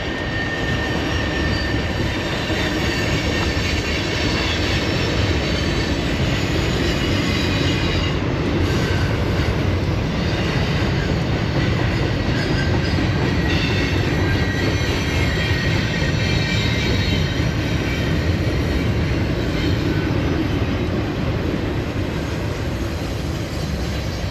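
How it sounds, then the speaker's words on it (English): A train rumbles past loudly and continuously, with steady wheel roar and rail noise that holds at full strength throughout. "I doubt we'll see a train today, and then it popped up."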